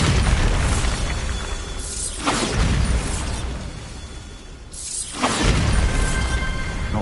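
Bombarda exploding spell blasts in Hogwarts Legacy boom out twice, each a sharp, loud burst over continuous dense game noise.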